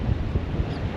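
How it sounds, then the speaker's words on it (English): Gusty wind buffets the microphone in a steady low rumble, with no voices. "So windy here."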